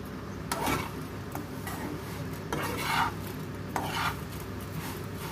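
Semiya (vermicelli) roasting in a pan for payasam, heard as a faint background sizzle broken by three or four brisk scraping stirs of a spoon against the metal.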